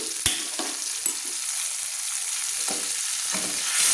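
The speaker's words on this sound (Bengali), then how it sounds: "এবার বন্ধুরা দেখুন আমি টমেটোটাকে ভালো করে তেলের মধ্যে কষিয়ে নিচ্ছি" Tomato paste sautéing in hot oil for a green pea ghugni, a dense even hiss of frying with a few sharp spatula knocks and scrapes scattered through, close and fairly loud.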